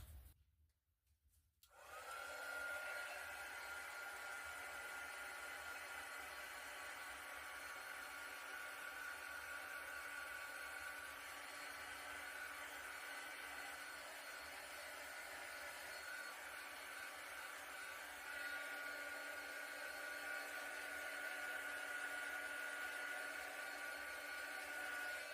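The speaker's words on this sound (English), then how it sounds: "I'm just going to hit this with a heat gun quick." A heat gun dries wet acrylic paint on an acrylic swipe painting, a steady close blowing roar with a faint high whine that starts after a brief quiet moment and runs unbroken to the end, with no talking.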